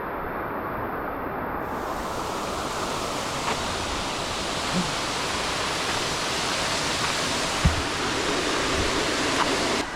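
A waterfall beside the Moei River in Tak, Thailand roars steadily as a dense, continuous rush of falling water, loud and unbroken for the whole stretch with no voices.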